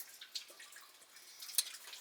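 Coolant drips from the open radiator petcock of a C20 truck, a few faint, sparse drops and trickles in a quiet space, no voices.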